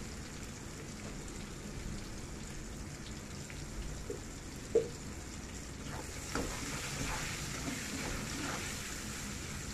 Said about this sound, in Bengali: তারপর বেগুন ভাজাগুলি করে নেব